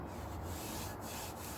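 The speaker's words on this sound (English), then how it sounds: "I planed this edge nice and smooth now, and it's absolutely flat" A hand plane shaving the edge of a wooden guitar neck blank, a continuous close scraping rasp of blade on wood, quiet and steady for a short stroke.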